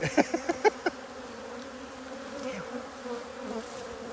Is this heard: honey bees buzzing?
yes